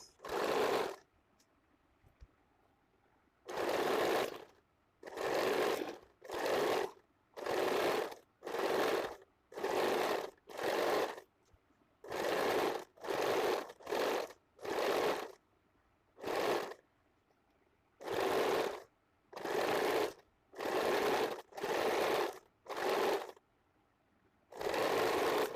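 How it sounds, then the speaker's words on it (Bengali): A sewing machine stitches a straight-fabric waistband onto a sleeveless blouse, running in about sixteen short bursts separated by brief pauses, close and steady with no talk. "এভাবে একটু ফোল্ড করে আমি সেলাই করে নিচ্ছি"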